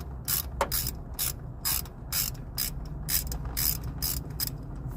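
Ratchet wrench working a 10 mm power steering line fitting on a 2010 Chevy Traverse LT, a run of roughly a dozen quick, crisp clicking bursts in steady rhythm, close and fairly loud over a low mechanical hum.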